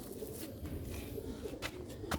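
A Sialkoti pigeon coos softly in low, repeated rolling calls, faint and close, with no talking.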